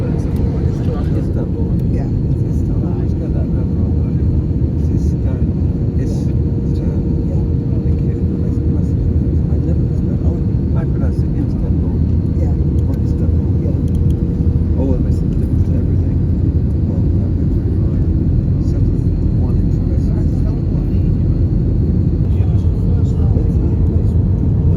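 An airplane in flight, heard from inside the cabin: a loud, steady low engine drone and airflow rumble that holds evenly for the whole stretch.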